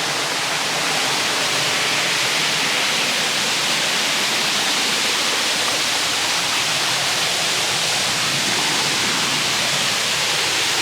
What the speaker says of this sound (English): the waterfall is always there, but it's not always this grand